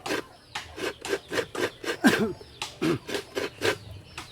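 Coconut being grated with a hand scraper, about a dozen evenly spaced rasping strokes in a steady rhythm, close and fairly quiet, with no one talking.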